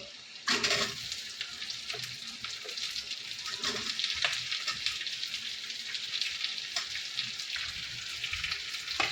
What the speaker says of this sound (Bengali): পেঁয়াজটা জাস্ট হালকা নরম হওয়া অবধি একটু ভাজা ভাজা করতে হবে